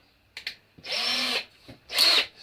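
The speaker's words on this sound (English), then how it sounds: "Now we'll go 6mm." A power drill with a 6mm metal bit whirs in short bursts, biting into metal with a high, grinding whine, close by and alone.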